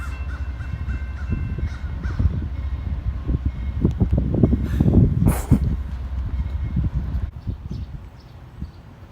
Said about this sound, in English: That bird will not shut up!